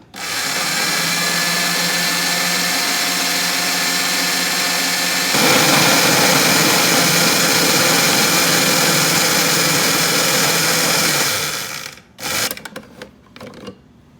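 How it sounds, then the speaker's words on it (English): A food processor's chopper whirs loudly and steadily while finely chopping potato dumpling ingredients, its pitch rising partway through, then cuts off, followed by a few short clattering bursts. "I use the chopper on the food processor and I process them until they're really fine"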